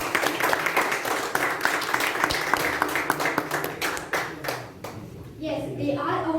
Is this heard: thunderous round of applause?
yes